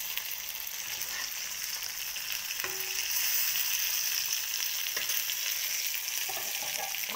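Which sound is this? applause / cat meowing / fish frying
fish frying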